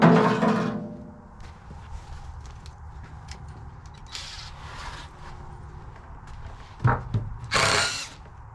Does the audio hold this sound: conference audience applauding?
no